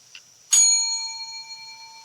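A classroom bell is struck once and rings out clear, its bright tone slowly fading over more than a second in an otherwise quiet room.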